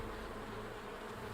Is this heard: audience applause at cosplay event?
no